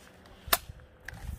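One sharp, loud crack from a cheap pistol firing right after its magazine is loaded, a single close shot followed by fainter clicks and handling noises.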